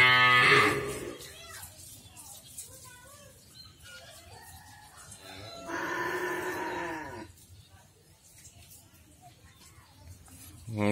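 Karapan sapi racing bulls in their pen give a few deep moos, one loud at the start and another mid-way, fairly close, with faint ambient farm noise and other animals between.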